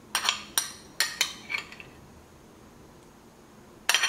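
A spoon adds two tablespoons of thick homemade curd into a vessel: a quick series of sharp metallic clinks and taps, then a quiet pause, with one more clink at the very end.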